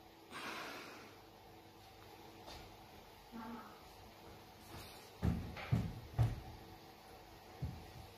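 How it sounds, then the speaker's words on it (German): A broken door swinging open in a German police-themed setting, giving a few short knocks and thumps in quick succession against a low room murmur. "Da seht ihr, die Tür ist gerade aufgegangen."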